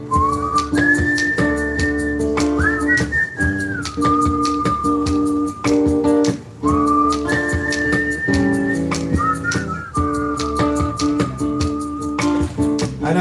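A person whistles a melodic tune in long sustained notes and phrases, loud and steady over musical backing, during a comedic performance of a song about cactus moonshine.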